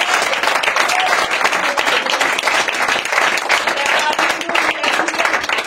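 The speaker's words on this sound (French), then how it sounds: "Acclame bien Jésus, acclame." A church congregation applauds Jesus with dense, loud, sustained clapping from a close crowd, and voices mix in throughout.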